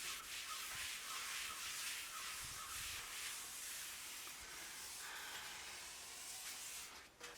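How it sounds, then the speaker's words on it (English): A cloth wipes down a Blackstone griddle surface, producing a faint, continuous hissing rub with soft strokes throughout, close up and quiet, with no speech. "Get in here and wipe this thing down pretty good."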